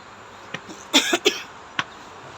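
A person coughs a few times in short, close bursts, with a couple of fainter throat sounds around them against a quiet background.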